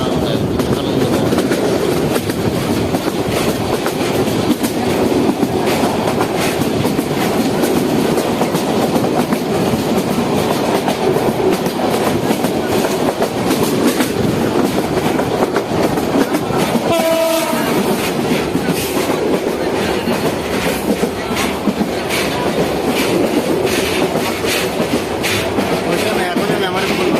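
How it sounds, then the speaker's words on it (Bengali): A passenger train runs from Bogra toward Lalmonirhat and Fulbari with a loud, continuous rumble and rhythmic rail clatter heard from on board. A brief horn blast sounds partway through. "ট্রেনের যাত্রাটা আসলেই খুব আরামদায়ক, আনন্দময়"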